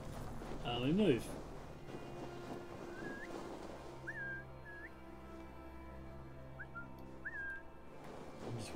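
Short rising whistle calls sound a handful of times in Assassin's Creed Valhalla, spaced apart over a steady game backdrop, with a voice talking at times.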